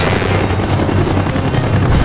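Helicopter in Call of Duty: Black Ops, a loud, dense rotor roar with steady rapid chopping, close and continuous throughout with no talk over it.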